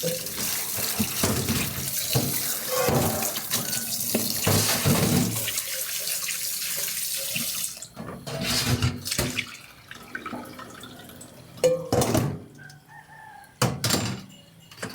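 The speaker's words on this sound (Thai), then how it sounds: "นี่วิธีล้างตับครับ นี่ค่ะ มีเกลือกับแป้งสีล้าง" Pork liver washed with salt and flour under a running tap, steady loud gushing water for several seconds, then intermittent splashes and bursts of flow as the tap is worked on and off.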